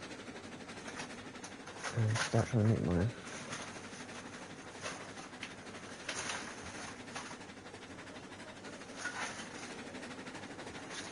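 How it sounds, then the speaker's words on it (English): A locomotive in the game Railroads Online runs a train toward the iron ore mine, a soft continuous rumble with faint rail clatter while someone talks over it. "let's get this train up to the iron ore mine"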